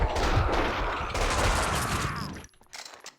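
Dense gunfire from the video game Max Payne, a loud sustained burst of shots that cuts off abruptly, followed by a few faint scattered sounds.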